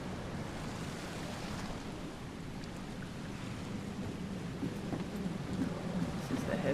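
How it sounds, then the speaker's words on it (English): Heavy rain in The Sinking City, a game set in flooded Oakmont, falls as a steady, dense wash of noise with low rumbling undertones, constant and fairly quiet throughout. "cultists tell us you will enjoy heavy rain, which is not mucking around"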